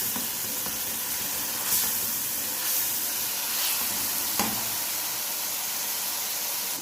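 Garlic, cumin seeds and black pepper fry in hot oil in a pan for a Lahori beef karahi, giving a steady close sizzle and hiss with a few faint scrapes, and nobody speaks.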